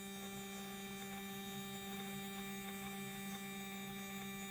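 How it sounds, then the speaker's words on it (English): A small NSR Baby King slot-car electric motor whirs steadily during break-in at a raised voltage, giving a constant tonal hum with faint pulsing overtones, close and alone with no talk. "Now the motor's a bit louder."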